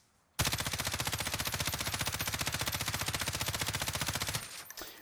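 An M13 assault rifle in the Warzone video game fires one long, loud burst of rapid automatic shots lasting about four seconds, with no other sounds over it, then cuts off abruptly.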